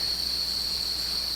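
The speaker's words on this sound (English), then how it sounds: "cicada" A cicada calling outdoors near a farm tractor shed, a continuous high, shrill buzz held steady and unbroken at moderate loudness.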